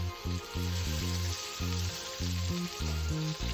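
Oyster mushrooms sautéing in a hot pan with fresh coriander give a steady, close sizzle that crackles and pulses throughout with no talk.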